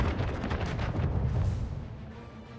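Ship cannon fire booms in a naval battle in the Anno 1800 game, a dense cluster of heavy blasts that rumble and then fade over a couple of seconds.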